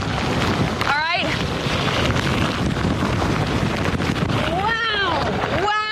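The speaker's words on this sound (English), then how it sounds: "That was a gust over 40 miles an hour." A strong gust over 40 miles an hour roars against the microphone as a loud, continuous buffeting rush of wind, with brief exclaiming voices breaking through near the start and end.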